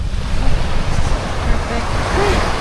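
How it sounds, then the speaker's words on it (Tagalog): Steady roar of surf washing onto the shore, loud and continuous, with wind rumbling underneath. "Medyo malakas yung alon eh."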